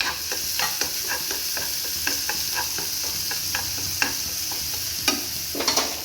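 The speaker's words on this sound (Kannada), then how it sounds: "ಈಗ ಸಾಸಿವೆ ಚಟಪಟ ಅಂತೂ ಈರುಳ್ಳಿ ಹಾಕ್ತಾಯಿದ್ದೀನಿ. ಈರುಳ್ಳಿ ಸ್ವಲ್ಪ ಫ್ರೈ ಆಗಲಿ" Onions crackle and sizzle in hot oil with mustard seeds in a pan for carrot paratha, a steady loud fry broken by sharp popping and stirring clicks close by, no voices.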